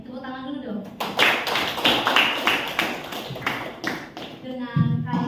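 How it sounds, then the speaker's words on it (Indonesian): A small group clapping in a classroom-style session, a burst of distinct, fairly close claps lasting a few seconds, with a voice speaking before and after. "tepuk tangan dulu dong"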